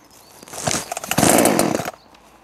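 A BUKO 10 inch petrol chainsaw pulls into life and revs, a loud, close, rasping two-stroke buzz that swells and wavers for over a second before cutting back to quiet.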